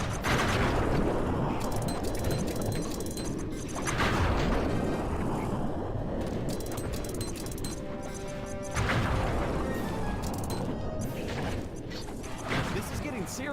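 Bomb explosions in the video game Sly 3, with heavy booming blasts repeating every few seconds over constant rumbling chaos and crashing debris, while voices talk in between.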